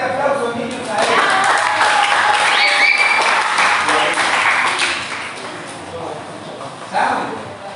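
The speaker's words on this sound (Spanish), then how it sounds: "Vamos a dar un fuerte aplauso, niños, a ellos." Children at a Christmas sharing event clap enthusiastically together, a close, lively burst of applause mixed with chatter that swells and then tapers off.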